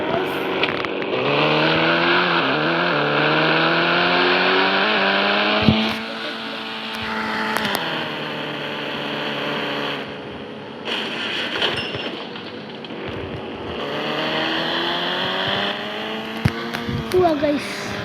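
Car engine in a driving video game, a steady revving drone with rising and falling pitch that shifts with gear changes, fairly loud and continuous throughout with brief dips and a few sharp clicks near the end.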